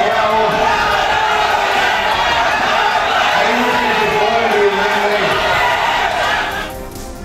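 Crowd of BJP party members shouting slogans during an inauguration ceremony for a station renovation project in Thanjavur, a loud, dense, continuous roar of voices that carries on throughout before easing slightly at the end.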